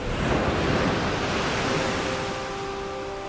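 Ocean surf rolls in a loud, continuous wash of breaking waves, close and full, easing off slightly toward the end, with no speech.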